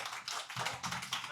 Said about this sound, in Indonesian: Tepuk tangan dulu buat konten kreator.